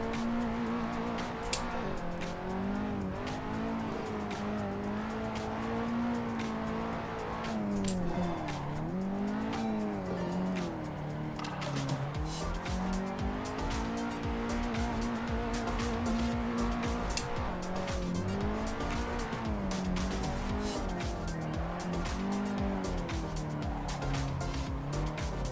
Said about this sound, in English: Get doing faster drifts.